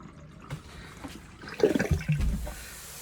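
Water drains from a motorhome sink after the plug is pushed down, a gurgling, sloshing rush that starts faint and grows louder and close in the last half, with no talking.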